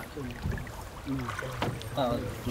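Speech over a steady low rumble and faint water and wind noise as a boat crosses a river where a collapsed bridge once stood.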